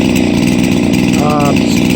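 A chainsaw with a Zama carburettor idles steadily and loudly throughout, a constant close-up engine drone with a brief rising whine near the end.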